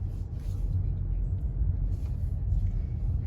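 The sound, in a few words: car being parked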